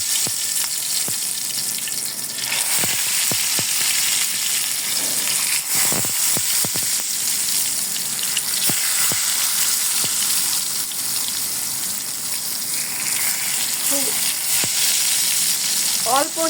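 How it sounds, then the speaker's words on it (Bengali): Ash gourd slices fry in a little oil over medium-low heat, giving a loud, continuous sizzle with scattered clicks and scrapes of a utensil and no speech. "অল্প অল্প করে তেল দিয়ে আস্তে আস্তে ভাজতে হবে"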